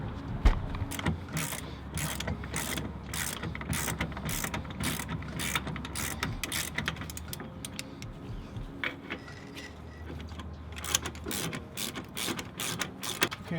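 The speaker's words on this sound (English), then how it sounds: "and then you're gonna tighten this to 40 foot-pounds." A ratchet tightens a brake caliper bolt on a C6 Corvette Grand Sport. Rapid, close clicking comes in repeated bursts with short pauses between strokes, with no talk.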